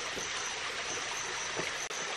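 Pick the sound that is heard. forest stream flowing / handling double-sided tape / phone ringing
forest stream flowing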